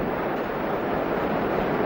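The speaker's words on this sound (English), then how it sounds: "After wiping out an entire logging camp, the deluge raged on." A volcanic mudflow deluge from the Mount St. Helens eruption roars down the Toutle River, a steady, dense rushing roar with no pauses and no voices.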